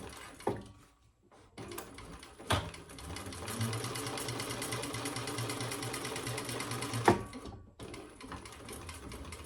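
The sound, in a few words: sewing machine top stitching a wallet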